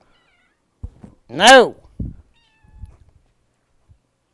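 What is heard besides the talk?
cat meowing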